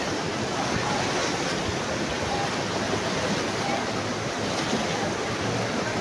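Water and mud pour down from a mountain in Digos City, a dense, continuous rushing roar that stays loud and even from start to end.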